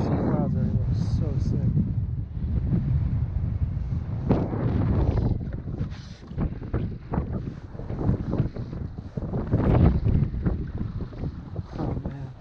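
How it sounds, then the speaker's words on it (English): Strong gusts of wind on a freshwater lake on Long Island during a fly fishing outing, a loud buffeting rush across the microphone with rumbling surges, while people talk over it. "Strong gust."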